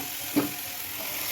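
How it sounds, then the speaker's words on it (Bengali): Egg tarka sizzles and sputters in a pan with fried egg and sugar being stirred in. A brief scrape of the spatula comes close up against a steady frying hiss. "চিনি দিয়ে এটাকে আমি আরেকটু ভালো করে কষে নেব।"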